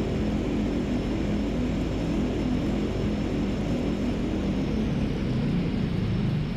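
A Kodiak E175 airliner rolling along a runway in the flight simulator X-Plane 11: a steady, continuous jet engine drone with a thin high whine, even in loudness and with no speech over it.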